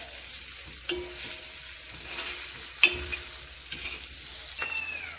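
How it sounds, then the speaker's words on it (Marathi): Fish frying in a pan gives a steady, close sizzle throughout, with a few sharp ticks and pops over the continuous crackle and no voices. "तर इथे मस्तपैकी आपला मासा फ्राय होत आलेला आहे"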